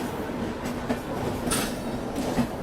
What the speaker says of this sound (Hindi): लखनऊ नई दिल्ली तेजस।